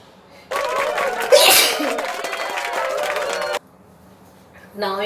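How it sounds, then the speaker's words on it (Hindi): A person sneezes repeatedly during a sneezing challenge, a loud close burst of sneezes running for about three seconds before stopping, with a short breathy sound following a moment later. "बहुत सारी छींकें आ गई"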